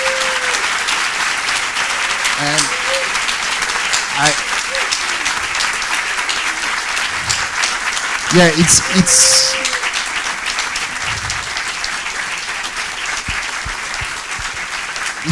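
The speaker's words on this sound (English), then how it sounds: "A big round of applause for you." Conference audience at the World Inequality Conference applauds the organizers, sustained dense clapping from a large crowd throughout, with scattered whoops and a brief cheer partway through.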